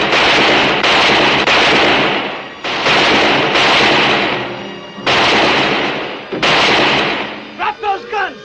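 Gunfire in a western shootout near a rock, loud dense bursts of shots and blasts repeating in quick succession, with brief gaps and trailing echoes near the end.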